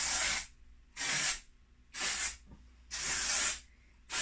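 A can of matte dry shampoo sprays onto straight hair held upside down, in four sharp hissing bursts of about half a second each, separated by short pauses, loud and close.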